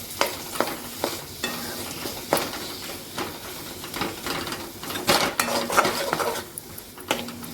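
Onion-coconut paste sautés in a pan for a spicy pigeon pea curry, with a low sizzle under repeated sharp spoon clinks and scrapes against the pan, close and irregular, without talk.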